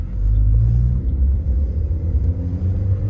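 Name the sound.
manual car accelerating as clutch is released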